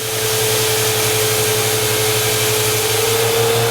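An IMPACTS S210E-40R shot blaster roars continuously at close range, giving a loud, steady broadband rush with a constant hum beneath and no break or voices.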